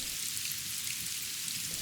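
Steady rain pours down in an animated children's story, a dense, even hiss of falling drops that continues without a break and with no voices over it.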